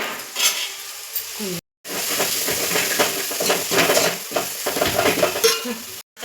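A pot of gourd curry with chili powder is stirred over a steady, loud sizzle, with repeated scraping and clinking of the spoon against the pot and two brief silent gaps.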